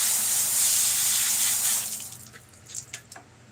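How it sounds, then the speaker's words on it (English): A water hose spraying hard while catfish and buffalo fish are cleaned, a loud, steady hiss for nearly two seconds before cutting off, followed by faint splashes and drips. "I'm gonna hit this with a water hose, but I'm gonna do it away from the phone because I know it's loud"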